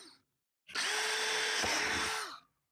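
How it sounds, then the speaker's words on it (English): A power drill boring a quarter-inch hole in a plant pot for an upside-down tomato planter, one close, loud, continuous whine lasting about two seconds before winding down, with a brief restart at the end. "I'm going to drill 3 about 1/4-inch size holes around the pot"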